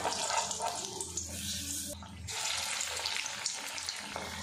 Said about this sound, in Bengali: এখানে আমি একদম কম তেল দিয়ে এটা ফ্রাই করছি, সেই জন্য একটা একটা করে দিয়ে ভাজা করছি